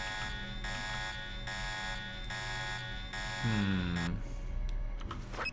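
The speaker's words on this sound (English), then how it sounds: "let's just undo the alarm. Oh, it's still ringing." Alarm in the Deus Ex video game rings continuously as a steady, loud electronic buzzing tone that pulses in regular beats, with a brief rising warble partway through.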